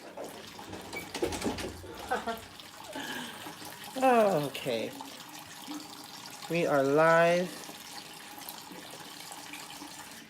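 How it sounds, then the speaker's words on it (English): Tap water runs steadily while a pan is washed, a continuous hiss in the background beneath a person talking. "Sorry if you hear like water running. I'm trying to like wash this pan out"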